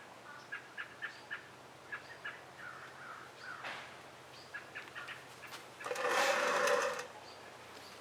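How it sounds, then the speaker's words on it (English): Birds call from trees outdoors, short chirping bursts repeating in quick clusters at a moderate distance, with a louder, longer rasping call rising near the end over a quiet background hum. "I've got birds in the trees"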